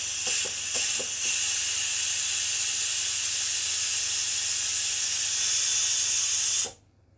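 Steam rushes out of a multi cooker's release valve in a loud, steady hiss that holds for several seconds, then cuts off abruptly, with a few faint clicks at the start.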